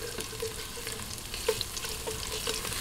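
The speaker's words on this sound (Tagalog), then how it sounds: "umpisahan na po natin ang paggigisa" Garlic sautéing in a pan for chicken arroz caldo, a steady close sizzle with occasional light stirring scrapes and small pops, and no voices.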